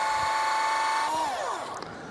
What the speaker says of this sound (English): I'm drilling the toenail.